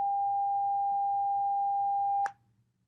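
A steady 800 hertz sine tone holds for just over two seconds, then cuts off with a small click, leaving quiet hum.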